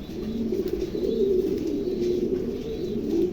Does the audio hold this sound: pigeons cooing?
yes